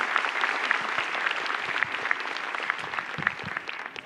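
Sustained audience applause for a stand-up comedian at a live comedy show, dense and steady clapping throughout with no one talking over it.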